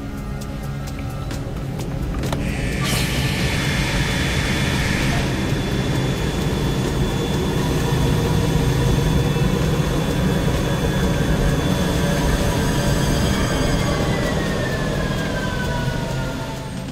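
Jet engine held at reduced 35% power during a water ingestion test, a steady loud roar with a sustained high whine, continuous and close throughout with no talking.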